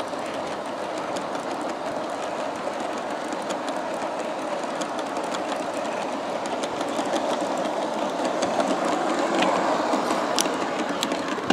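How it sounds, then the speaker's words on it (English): G scale Santa Fe model train rolling past a track switch, a steady close clickety-clack and motor whir that slowly grows louder, with no talking. "I'm waiting for the train to pass the switch here so I can throw the switch"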